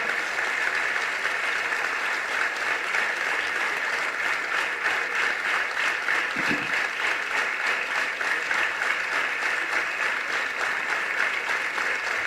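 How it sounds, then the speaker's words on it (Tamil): A hall audience at a speech event keeps up continuous applause for a visiting guest, a steady, unbroken wash of many hands clapping for the whole stretch. "ஒரு நிமிடம் நாம் இடைவிடாத அவருக்கு ஒரு கைத்தட்டு கொடுக்கணும்"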